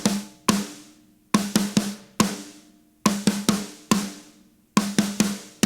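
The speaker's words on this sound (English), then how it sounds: "a herta is just a different way to play a single stroke roll" A drum fill built on the herta, a single-stroke roll figure with quick 32nd-note bursts, plays as repeated clusters of sharp drum hits, close and loud, with ringing decay between each group.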